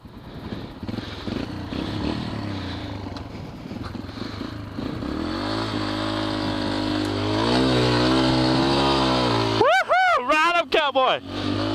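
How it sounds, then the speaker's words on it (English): A Yamaha TTR125 dirt bike on a muddy hill runs with a low idle that climbs into rising revs, then a few sharp throttle blips at the end, close and fairly loud, with a person talking over it. "Fine, I'll use the electric starter."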